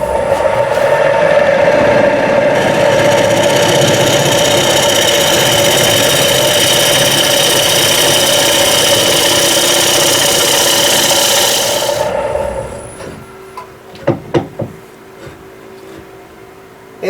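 Power sanding or abrasive shaping of a eucalyptus wood bowl rim on a lathe, a loud continuous grinding rasp that stops abruptly near the end, followed by a few sharp knocks and quieter handling noises.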